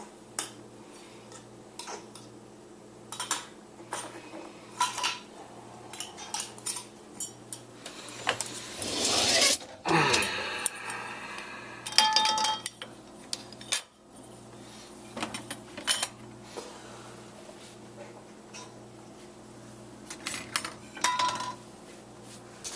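Jar lids and dishes being placed into a dishwasher, a scattered run of close clinks and knocks with one brief rattling burst of plastic and glass near the middle, no talk.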